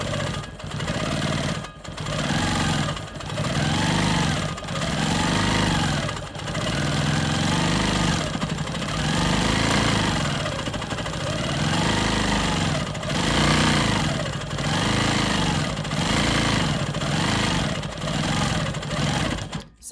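A quilting machine stitches smoky swirl loops into a rolling stone quilt block, its motor whirring in close, rhythmic swells with brief pauses between runs.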